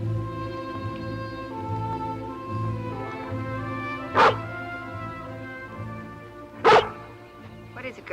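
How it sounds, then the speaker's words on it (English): Lassie the collie barks twice in an old cartoon. The two sharp, loud barks stand out over a steady orchestral music score. "If it were Uncle Petrie, she wouldn't have barked."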